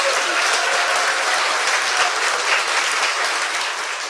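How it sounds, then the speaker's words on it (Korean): Live studio audience at a Korean talk show gives a loud, sustained round of dense applause, steady throughout, with faint voices underneath. "박수 한번 더 주세요."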